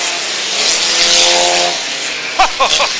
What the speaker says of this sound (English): There's a car sideways at the top of turn 4, and he turns it right around.